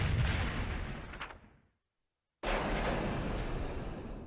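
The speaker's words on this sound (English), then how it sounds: "The giant machine fell. And exploded on the ground below" A giant machine in The Plucky Squire blows up with a loud, broad explosive roar that fades out, falls silent for a moment, then returns as a second dense burst of rumbling blast noise.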